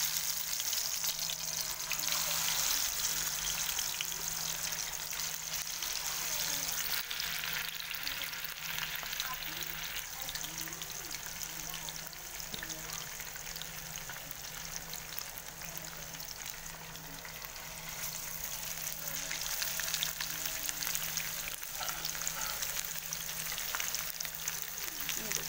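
Fish pieces frying in hot oil in a pan, a dense, even sizzle running unbroken and fairly loud throughout, with a faint low hum beneath.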